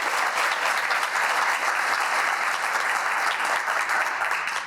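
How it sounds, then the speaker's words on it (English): Sustained applause from a lecture audience at a university award presentation, a dense, steady wash of many hands clapping that holds loud throughout before easing slightly at the end. "So I think a round of applause for Dr. McDonald."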